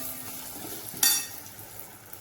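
Tomato fries with red chilli powder for urad dal amti in a steady soft sizzle, broken once by a sharp metallic clink of a utensil against the pan.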